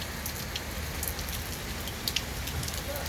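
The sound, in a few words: heavy downpour of rain from cyclone Michong in Chennai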